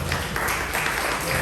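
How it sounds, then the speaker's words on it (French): A church congregation at a charismatic recollection day claps in a brief, dense burst of applause, steady and close throughout. "Je vous invite au début de cette Eucharistie à l'applaudir encore une fois."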